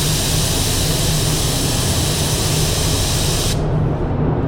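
A paint spray gun lays a finesse coat on a Mitsubishi Eclipse GSX at around 14 PSI, giving a loud, continuous airy hiss that cuts off sharply near the end, leaving a lower steady compressor-like rush.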